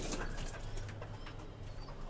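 Omani teddy pigeons coo softly in a low, repeated murmur against a dense background hum, faint and somewhat distant, with no clear speech over them.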